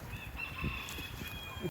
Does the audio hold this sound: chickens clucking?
yes